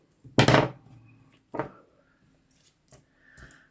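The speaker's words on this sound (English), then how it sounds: "Let's get my scissors, cut this off." Scissors snip through ribbon while making a twist-open fun fold card, two sharp close cuts followed by fainter handling clicks and rustles.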